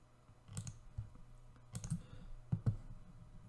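Several sharp computer mouse clicks come in small clusters, close and faint over a quiet background hum, with no talking.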